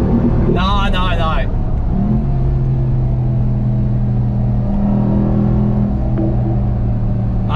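Low engine rumble from a 702hp Dodge RAM TRX easing off and slowing gradually on the Nürburgring Nordschleife, a steady drone close by that runs throughout.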